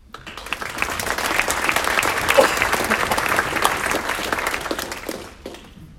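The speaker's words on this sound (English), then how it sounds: "I'm glad that you all applauded for our candidates" Sustained applause from the audience at a 2019 Ogden primary mayoral debate swells quickly and holds at an even level for several seconds before tapering off, with no talking over it.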